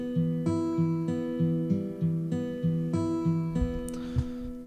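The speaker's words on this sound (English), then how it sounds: "This is again a Spitfire audio plugin called Think." Spitfire Audio Think software instrument plays arpeggiated chords as repeating pulsing tones in a steady rhythm, soft and synthetic, with no voices.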